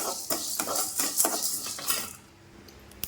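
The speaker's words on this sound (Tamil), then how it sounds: "இப்போ அந்த பருப்புக்குள்ளேயே சீரகம் மிளகையும் போட்டுக்கிறேன் போட்டு சிம்மில் வச்சுட்டு அப்படியே அதையும் கொஞ்சம் வறுக்கலாம்" Chana dal, urad dal, cumin and pepper are roasted in a pan on low heat, with a spoon scraping and stirring in quick bursts of close clatter before fading to quiet.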